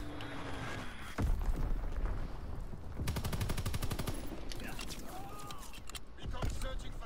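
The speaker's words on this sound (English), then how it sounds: "Dropping Fritz X bomb." In Call of Duty: WWII, a Fritz X bomb strike lands with a sharp heavy impact, followed by rapid machine-gun bursts and scattered gunfire in a noisy battle.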